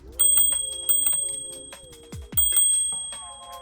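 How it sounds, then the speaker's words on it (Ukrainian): A small but very loud handlebar bell on a Proove Urban 2025 electric scooter rings several times in bright, metallic dings with a ringing decay, heard up close and alone. "Також на кермі знаходиться дзвоник, невеличкий, але дуже гучний."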